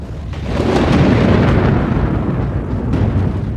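Deep, rumbling thunder from a brewing afternoon storm rolls on continuously, loud and heavy with low booming, and no voices are heard over it.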